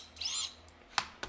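A small FPV drone motor spins up briefly with a rising and falling high whine, then gives two sharp clicks or ticks near the end, close and fairly quiet.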